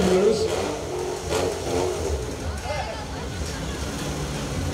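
A rally car revs and launches off the start line at the Kınık hill climb race, its engine roaring steadily under a loud announcer who talks throughout.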